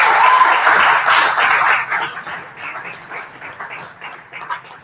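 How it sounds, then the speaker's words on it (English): Audience applause at a live fan event bursts loudly at first with dense clapping, then thins into scattered claps that fade over a few seconds. "I think everybody should give Dan Baker a big round of applause"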